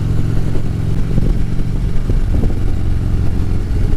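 A 1988 vintage Harley-Davidson Softail motorcycle engine runs loud and close with a deep, uneven rumble and a mechanical clatter throughout, and no talking.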